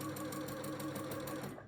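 A sewing machine runs continuously as it stitches a red, white and blue quilt made from bandanas, a quilt-as-you-go piece. The needle hums and rattles in a fast, even rhythm at close range.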